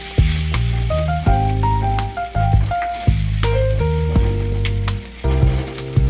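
Onion and garlic sauté in oil for corned beef sinigang, a soft, steady sizzle running beneath prominent background music with clear melodic notes.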